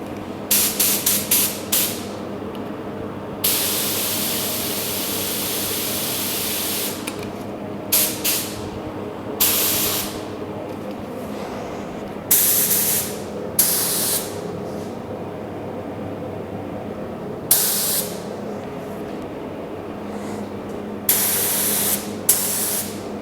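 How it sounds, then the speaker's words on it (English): A spray gun hisses in long steady bursts with brief pauses between passes, loud and close, repeating over and over, spraying base coat on 1950 Chevy truck fenders. "we'll get this adjusted and start spraying"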